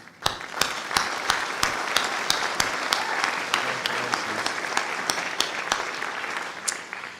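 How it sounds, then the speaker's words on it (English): Audience in a school auditorium applauds a band at a spring concert: dense, steady clapping throughout, with sharp individual claps standing out near the recorder and no voices. "Please join me in another round of applause for that absolutely wonderful band."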